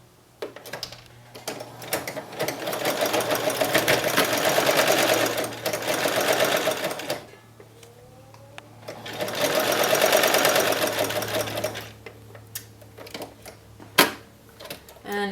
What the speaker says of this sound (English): So you're literally just sewing on the top of the fold, a top stitch that holds this down